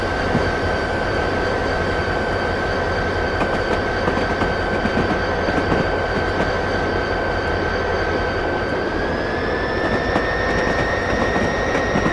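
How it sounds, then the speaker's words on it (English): A freight train rumbles past in Train Simulator 2020 on the South Florida Tri-Rail route. A loud, continuous rolling roar with faint clickety-clack and a sustained tonal whine runs throughout. "We've got a freight train passing us by."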